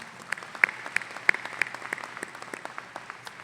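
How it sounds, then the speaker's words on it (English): A commencement ceremony audience claps in scattered, crisp individual claps that thin out toward the end, with no voices over them. "How about a round of applause for these folks, ladies and gentlemen?"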